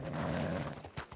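A horse makes a low, snorting whinny up close, followed by a few soft hoof thuds within about a second.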